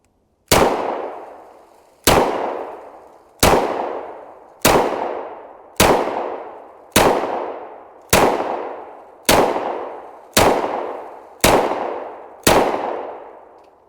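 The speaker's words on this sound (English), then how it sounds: "First shots out of the 3rd Gen Smith." Eleven sharp pistol shots from a third-generation Smith & Wesson ring out at an outdoor range, evenly spaced about a second apart, each loud crack trailing into a short echo.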